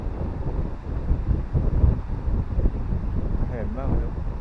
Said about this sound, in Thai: วันนี้ลมแรงมาก ลมโคตรแรงเลย